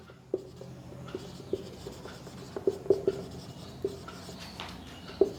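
Chalk or marker writing on a board during a chemistry lecture gives close, crisp taps and short scratchy strokes at an irregular pace, with no talk over them.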